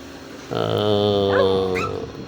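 Several puppies, three from a litter in a village near Karaikudi, yelp and whimper together in a sustained, loud high-pitched chorus with rising yips, close by and without talk.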